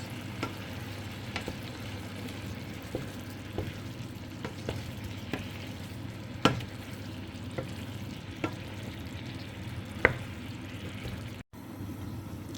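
Food frying in a pan with a little sugar, stirred steadily: a continuous sizzle under scraping and clinking of the spoon against the pan, with a few sharp knocks along the way.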